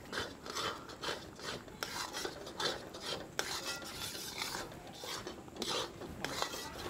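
A ladle scrapes and stirs a thick seven-cup burfi sweet mixture in a pan, rhythmic rasping strokes repeating steadily, close up, with no voices.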